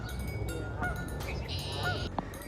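Waterfowl honk and call outdoors in several short, nasal bursts, fairly faint against a steady background.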